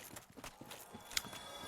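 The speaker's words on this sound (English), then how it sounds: "So the horse obviously is like a spectral thing" Soft clip-clop of spectral horse hooves in the Dark Souls Nightfall demo, a quiet, steady trotting rhythm of light hoof strikes with a faint higher ring partway through.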